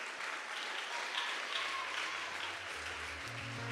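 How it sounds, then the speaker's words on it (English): Steady applause fills a school athletics awards ceremony as the cross-country team is called to the stage, a dense even wash of many hands clapping throughout, with faint low murmurs toward the end. "let's give them a round of applause"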